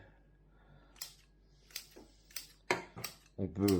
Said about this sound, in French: déchiqueter un petit peu tout, quoi, avec un petit sécateur à volaille